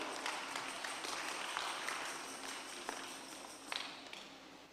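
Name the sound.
applause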